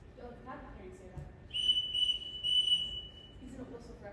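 A shrill whistle sounds in a Sound of Music stage play, blown in three short, loud pitched blasts in quick succession over a room of stage dialogue and murmuring voices.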